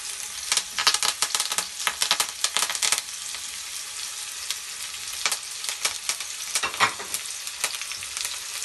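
Pork chop pan-roasting in very hot oil with sliced shallot, apple and hard herbs, a steady close sizzle broken by bursts of crackling spatter and stirring clatter.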